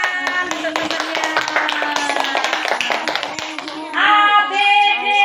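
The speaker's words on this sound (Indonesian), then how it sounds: "tepuk tangan untuk temannya" Pupils in a primary school classroom clap for a classmate, a dense run of sharp, close hand claps lasting several seconds, followed by voices speaking at the end.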